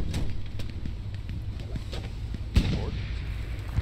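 A tank's main gun fires a high-explosive shell in the Hell Let Loose video game, a single sharp boom partway through over a steady low battlefield rumble.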